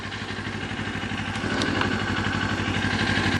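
A 2025 Kawasaki Ninja 500 motorcycle idles steadily nearby, its even low engine pulse holding alone and growing slightly louder toward the end, with a faint mechanical tick over the rumble.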